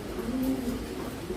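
A pair of Milli Racer pigeons, a breeding pair already laying eggs, gives a single short, low, throaty coo close by.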